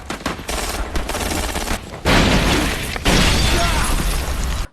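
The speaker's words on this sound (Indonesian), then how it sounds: "Tentara Korut yang sebagian sudah masuk ke wilayah Korsel menembaki tentara Korsel yang ada." Dense gunfire from a war film battle scene in which North Korean troops fire on South Korean soldiers: loud rattling volleys and automatic bursts in sustained waves, with brief gaps between heavy stretches.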